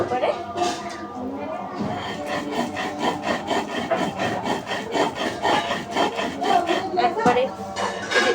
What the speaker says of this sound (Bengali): যে সরিষাটা জিরাটা বাটা হয়ে গেছে এবার এই বাটাইতে আমি এর সাথে এই যে ডালটা বেটে নেব